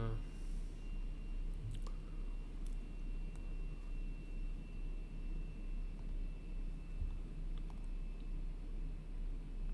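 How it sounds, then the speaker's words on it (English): A desktop PC running a trading server gives off a loud, steady fan drone with a faint high whine and a few soft clicks, continuous in the background of a room. "That's what that noise is."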